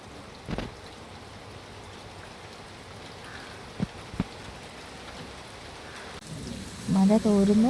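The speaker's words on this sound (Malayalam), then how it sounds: "മഴ തോരുന്നു പെയ്യുന്നു, തോരുന്നു പെയ്യുന്നു." Steady rain falls outdoors after days of heavy downpour, a soft continuous patter with a couple of sharp drip knocks midway and a voice briefly talking near the end.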